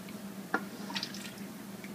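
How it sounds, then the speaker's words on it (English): Broth ladled over rice, a soft splash and a few quiet liquid drips and pours, faint and brief against a low room hum. "Put some of this delicious broth over it."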